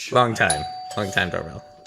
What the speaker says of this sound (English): Oh, lovely doorbell. Marvelous doorbell.